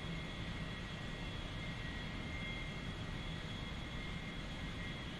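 A-4 Skyhawk jet coming in to land in the DCS flight simulator, a steady, loud engine roar and rushing air holding even throughout without a break.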